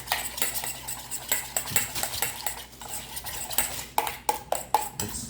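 A spoon clinks and scrapes against a bowl while stirring a sticky sweet and spicy mixture for pork chops, in quick irregular bursts up close, with no talk.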